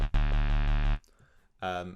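A buzzy, distorted FM wavetable synth bass, a sine-saw wavetable modulated into a sine wave, plays in rhythmic pulses, then stops for a gap of quiet noise before a second gritty note enters, loud and close.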